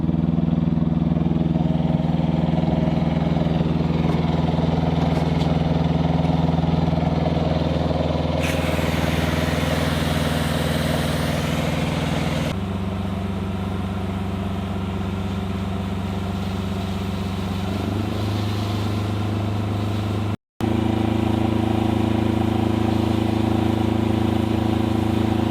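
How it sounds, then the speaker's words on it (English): The pump engine on a bushfire heavy attack prototype unit runs with a steady, loud mechanical drone, stepping up in pitch as the revs are raised partway through, then holding at the higher speed. "Okay, so the pump started. We can increase revs."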